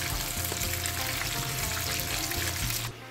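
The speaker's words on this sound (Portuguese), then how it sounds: "Agora é só fritar até ficar bem douradinho" Chicken pieces frying in hot oil until golden, a dense, continuous crackling sizzle with faint low bumps underneath that drops away abruptly just before the end.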